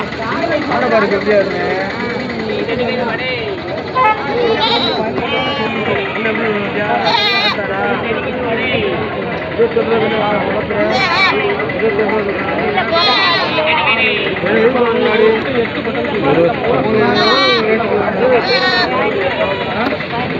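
Goats bleat repeatedly at Ettayapuram's Friday goat market, sharp cries rising over a dense crowd hubbub and steady background noise, with traders talking throughout.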